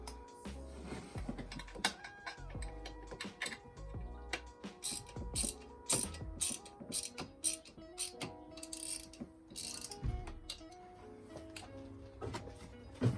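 A ratchet spanner tightening an Airtec crossover pipe on a Mk2 Ford Focus ST225, rapid clicking pawl bursts in quick repeated strokes with metallic taps between, close and clear with no talk.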